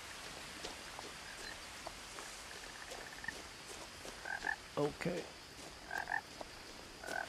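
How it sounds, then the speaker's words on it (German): Frogs croak in a game world from What Remains of Edith Finch, a few double-pulsed calls coming in clusters late in the stretch over quiet ambience, with one brief spoken word from a player. "Frösche."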